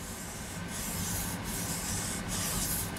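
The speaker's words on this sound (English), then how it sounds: "I'm just going to sharpen this for a little while, and when I'm done on the 4000 grit," A Scandinavian-ground Mora knife being sharpened on a 4000 grit whetstone, giving a close, continuous abrasive scraping in steady back-and-forth strokes with brief dips between passes.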